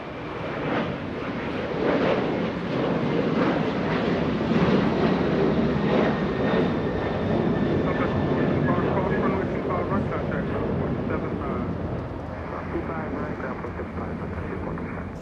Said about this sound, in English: Polish, that is the Polish Dreamliner. That is the Independence livery.